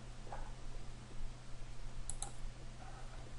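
A computer mouse clicks twice in quick succession, faint and close, over a quiet background hum, while using Ansys Fluent software.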